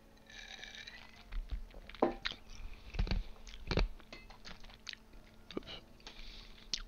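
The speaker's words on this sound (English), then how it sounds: "I'm just finishing up my old fashioned and crunching on the ice." Ice cubes from an old fashioned cocktail crunched between teeth, a string of close, irregular crisp bites and chewing bursts with a few louder cracks, heard alone at low level.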